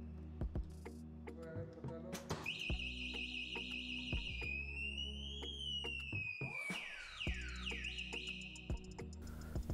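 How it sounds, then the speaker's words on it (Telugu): Anti-theft alarm of a Techo Electra Raptor electric scooter sounding loud and close, a steady electronic tone breaking into rising and falling siren sweeps and rapid warbling chirps over several seconds, with no talk. "అలారం పట్టుకుంటుంది."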